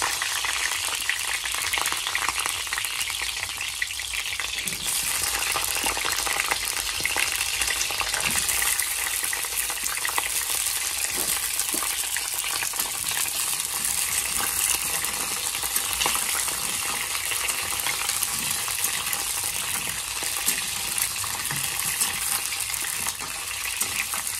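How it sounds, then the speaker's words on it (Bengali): Pointed gourd (potol) frying in hot oil in a pan, a loud, dense and continuous sizzle that holds steady throughout, close up and alone. "এখন পটলগুলো এর মধ্যে তেলের মধ্যে দিয়ে দিচ্ছি।"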